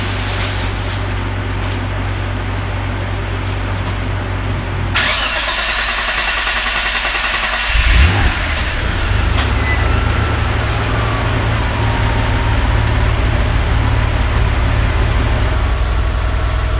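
A 1991-1993 Mitsubishi 3000GT VR4 AWD fitted with a Jester Chrome ECU first hums steadily, then its starter cranks briefly and the engine catches with a loud burst before settling into a steady, even idle close by.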